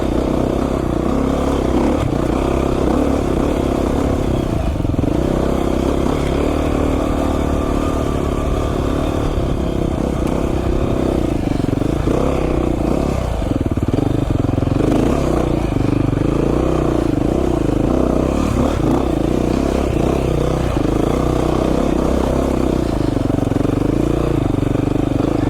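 A Beta 500 RR-S dirt bike rides rocky mountain single track, its engine close and loud throughout, rising and falling with throttle while rocks clatter and scrape under the tires.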